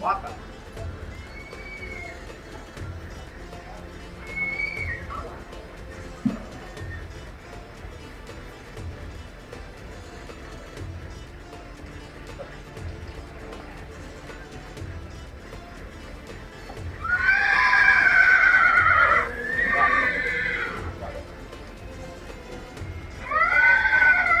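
Horses whinny at an outdoor horse show in Anthiyur, with a couple of faint neighs early on and louder, strained whinnies near the end, heard over a murmuring crowd and a Tamil public-address announcement.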